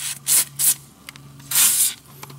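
Knock'er Loose penetrant sprayed onto the nylock nut and pivot bolts of a DeLorean rear suspension, close and loud, in three hissing bursts, two short ones then a longer spray, with faint metallic clicks between.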